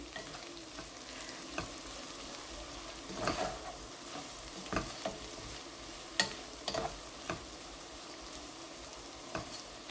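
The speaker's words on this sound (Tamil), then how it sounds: "கொஞ்சம் பச்சை மிளகாயம் போட்டு பொரிய விடலாம்." Pepper mutton fry with green chillies sizzling quietly in a pan, soft constant frying hiss broken by sporadic spatula scrapes and taps, faint and close with no voices.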